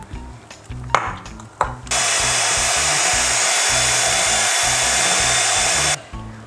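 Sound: electric beater whipping cream with powdered sugar

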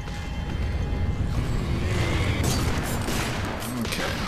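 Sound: gunfire in the video game F.3.A.R

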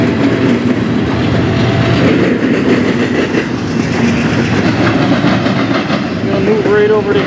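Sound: NS 29C intermodal freight train passing

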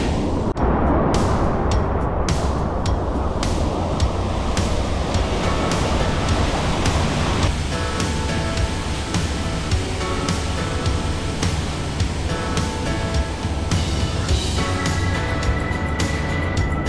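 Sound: waterfall rushing water

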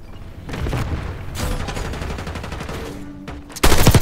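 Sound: gunfire in the video game Call of Duty Black Ops 6

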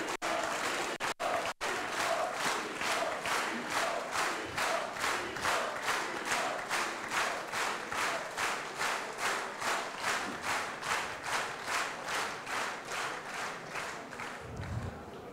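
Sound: crowd applauding and clapping at a rally

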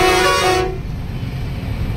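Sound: truck horn honking

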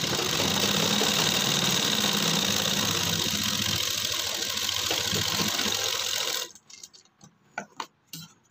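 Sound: sewing machine stitching shirt collar and band

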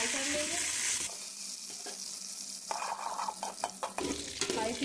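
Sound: potatoes frying in hot oil

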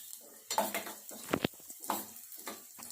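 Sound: onion and green chili frying in hot oil

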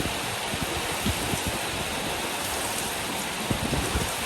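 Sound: heavy rain

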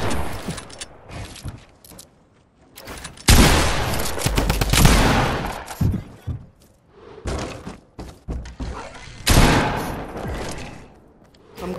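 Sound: gunfire from a video game gun

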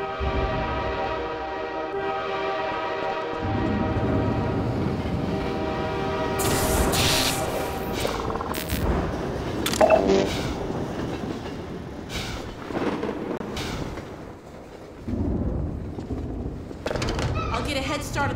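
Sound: train in video game Half-Life 2 Episode 1

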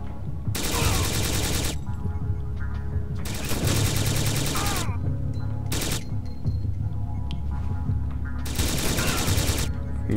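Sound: enemy gunfire in the video game Syphon Filter: Logan's Shadow

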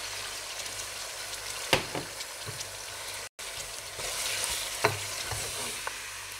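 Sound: spices, garlic and ginger frying in a pan

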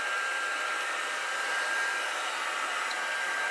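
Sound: hot air blower heating PE pipe

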